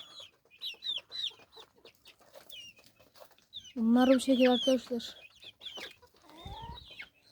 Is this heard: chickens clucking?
yes